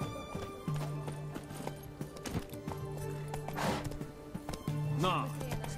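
Hooves of a horse clop in The Witcher 3 at a brisk, steady pace, close and clear under music, with a short whinny and someone talking over it.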